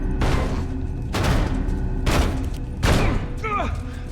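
Shotgun blasts ring out in The Last of Us on Grounded difficulty: four loud, heavy shots spaced about a second apart, each with a booming tail, with a voice calling out over them near the end.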